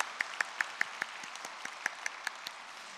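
In a quiet church during a Thanksgiving Sunday service, soft, evenly spaced hand claps repeat in a steady rhythm over a faint background.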